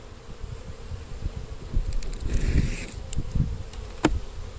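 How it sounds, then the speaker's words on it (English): Honeybees buzz steadily and close by in a dense droning hum at the hive, with a few louder passes from individual bees. "These were really good bees."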